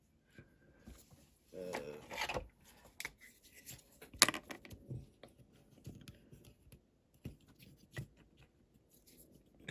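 Pen or marker scratching a cutting line onto the bodywork of a Jaguar XJ12C banger racing car, a few short rubbing strokes with knocks and handling noises, fairly quiet and close.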